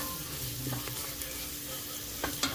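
Onions sizzle steadily in a pan while being stirred over turned-down heat, a soft continuous frying hiss with a few light scrapes of the spoon.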